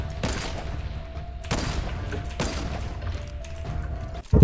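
Gunfire in the Fortnite video game during a timed shooting test: several sharp, loud shots spaced about a second apart over a steady background, with a heavy thump at the end.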